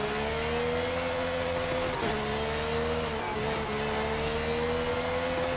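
A naturally aspirated racing car engine revs steadily and loud and close, its droning pitch dipping briefly twice and climbing again, with no voices over it.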